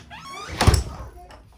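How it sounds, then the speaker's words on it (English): A front door fitted with new weather stripping swings shut with a single soft thunk, the seal dragging briefly, close by in a quiet room. "let's slide it on and make sure the door closes well."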